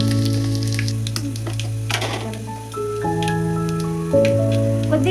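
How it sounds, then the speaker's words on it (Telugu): Onions, cumin and dried chilies fry in hot oil with a light crackling sizzle, beneath loud, steady background music. "నూనె అయితే హీట్ అయిందండి, నేను కొన్ని ఉల్లిపాయలు వేస్తున్నాను."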